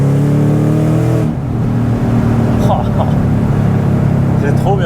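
A Mustang Shelby GT500 with 760 hp pulls hard, its engine note rising and settling into a loud steady roar, while people talk excitedly inside the car.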